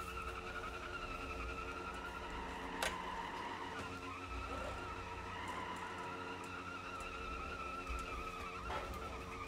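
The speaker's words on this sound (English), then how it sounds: "we're gonna do a burnout with it." A car in the driving game BeamNG.drive does a burnout with the brakes held, giving a continuous loud roar of engine and screeching, skidding tires that stays steady throughout, with no talk.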